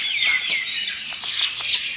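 High, scratchy guineafowl calls repeat in quick succession at a bird park, fairly close and loud, with no talking.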